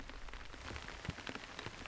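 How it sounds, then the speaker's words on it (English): Rain beginning to fall outdoors in open Western country with distant mountains, a steady patter of drops on a surface with scattered louder close taps, faint and continuous, with no voices. "And then it starts to rain."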